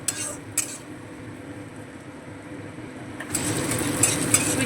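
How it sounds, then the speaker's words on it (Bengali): Sweet corn kernels frying in oil over low gas in a pan, a steady low sizzle with light clinks of a spoon stirring, swelling louder near the end. "এবারও আমরা গ্যাস কমিয়ে সুইটকর্নগুলো ভেজে নেবো"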